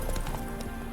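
Roach, Geralt's horse in The Witcher 3, gallops with rapid, close clip-clop hoofbeats in a steady driving rhythm, loud and continuous, with no voices over it.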